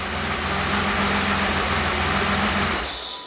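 A 1974 Porsche 911 coupe engine idles steadily just after startup, a close, loud, even low rumble that holds without revving before cutting off abruptly at the end.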